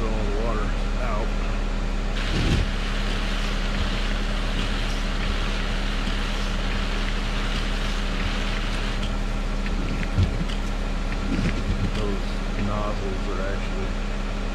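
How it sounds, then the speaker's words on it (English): Water spraying from the windshield washer of a 2008 Honda CR-V, a steady hissing spray running on for several seconds with a constant pump hum beneath and brief clunks. "I'm gonna go ahead and keep spraying it until all the water is out."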